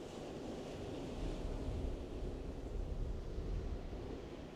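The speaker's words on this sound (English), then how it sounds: "The wind's blowing quite fresh now" Fresh wind gusts across a surf beach during a whiting beach-casting session, a steady loud rushing broadband roar with breaking waves beneath and no talk.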